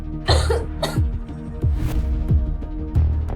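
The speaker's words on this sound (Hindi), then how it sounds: "वो सर्दी के मारे खांसने भी लगी थी" A woman coughing from a cold, several short harsh coughs in quick succession, loud and close.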